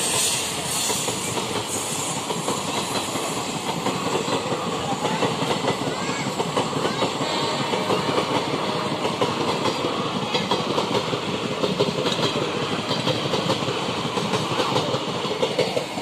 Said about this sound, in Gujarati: જો રેલગાડી નીકળી